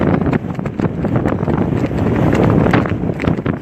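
Strong gusty wind buffeting an outdoor microphone at a protest outside a detention center in Pahrump, Nevada, with loud roaring rushes and irregular thumps that could be a flagpole whipping about, and no voices.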